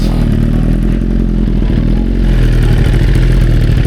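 A motorcycle engine idles steadily and loud and close, a constant low rumble with faint mechanical clatter and no talk.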